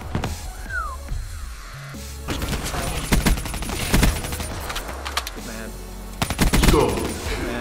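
Automatic gunfire in Black Ops 3 rattles in rapid repeated bursts, loud and close, with game effects and a brief voice in the mix.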